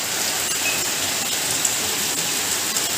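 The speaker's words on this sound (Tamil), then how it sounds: "நல்ல மழை பெஞ்சிட்ருக்கு பாருங்கள்." Heavy rain pours down outside on a wet day, a dense, even hiss of drops hitting surfaces that holds steady and loud throughout with no voices.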